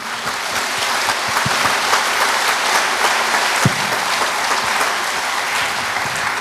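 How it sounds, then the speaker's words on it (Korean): Large crowd at a provincial governor's inauguration ceremony in South Chungcheong, 2014, giving loud, sustained applause that fills the hall at an even level throughout. "여러분들 큰 박수 부탁 올립니다."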